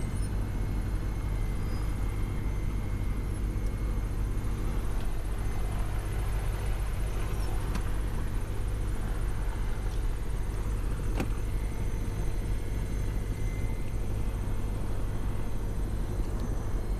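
A Cessna 172 propeller airplane lining up and taking off, its engine a steady, loud, droning roar that holds without a break, heard from close inside the aircraft.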